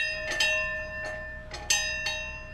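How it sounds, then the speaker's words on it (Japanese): A hand-struck Bell of Happiness beside a seaside station in Setouchi on Amami Oshima rings out in several clear, sustained strikes, each leaving a long shimmering tone that overlaps the next. "瀬戸内海の駅のすぐそばには幸福の鐘があります。"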